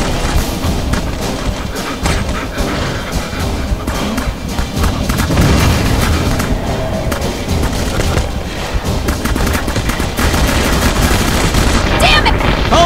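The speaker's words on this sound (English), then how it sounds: "I want to use the howitzer." Howitzer artillery fire in the video game Jericho, amid dense, loud gunfire and booms that continue without pause, with voices shouting over the battle.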